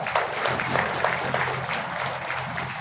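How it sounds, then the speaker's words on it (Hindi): Audience applause at a district soldiers' welfare board honour ceremony in Bulandshahr, a steady dense clapping that continues throughout at even loudness. "तालियां बजाकर स्वागत किया जाए"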